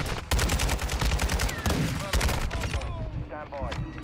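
Rapid bursts of gunfire from an Xbox shooter fill the whole stretch, loud and continuous, with overlapping shots and some brief electronic tones near the end.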